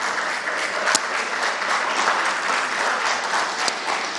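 An audience claps continuously at a governorship election debate, a steady wash of many hands at moderate level, with a couple of sharper individual claps standing out.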